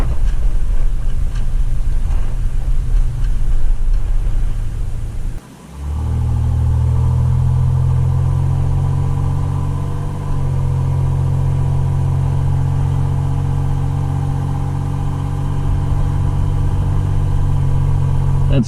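Ford Bronco II that sat unused for over eight years, driving at about 25 mph. The engine drones loud and steady from inside the cab, with a brief drop and gear change before a sustained, tonal cruising hum.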